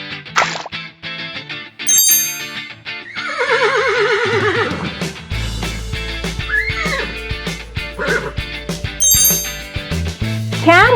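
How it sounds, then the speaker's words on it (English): A horse neighs in a long, wavering whinny near the middle, set against bright music with chimes and clinks, followed by scattered clopping hits. "Horse."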